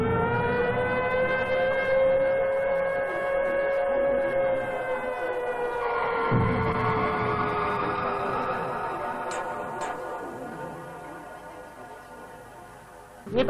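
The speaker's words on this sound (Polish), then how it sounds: "Tylko to wycie syreny." A civil defense siren wails at the start of a factory strike, one long steady rising-and-falling tone that holds loud for over ten seconds and then slowly fades, heard alone at some distance.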